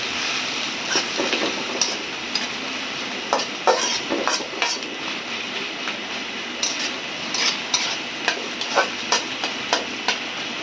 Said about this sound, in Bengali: সুন্দর করে নাড়াচাড়া করতেছি